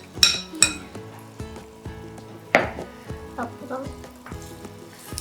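Beaten batter poured into a hot oiled pan sizzles and crackles steadily, with sharp clinks of a utensil against the pan and a spoon scraping, close and fairly loud in a kitchen.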